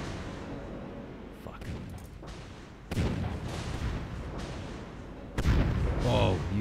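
Cannon and gunfire from a ship battle in a video game: heavy broadband booms hit at about three and five seconds over a dense, continuous rumble of battle noise, loud and close.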